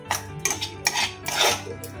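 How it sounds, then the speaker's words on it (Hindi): Potatoes being cut in a kitchen, a series of quick, close knife taps and clatters of utensils against a board and pan, irregular and lightly spaced. "तो अभी मैं आलू कट कर लेती हूँ।"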